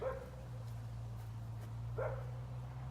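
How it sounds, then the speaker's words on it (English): A dog barks twice, faint and a little distant, over a constant low hum. "There was a barking"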